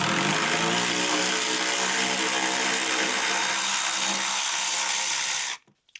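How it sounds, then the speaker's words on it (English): A steady, loud mechanical whir runs without a break for over five seconds, then stops abruptly, as an electric ratchet works on the front seat bolts of a 2008 Ford Mustang. "I'm going to use the electric ratchet on one side, which I think I can get in there too."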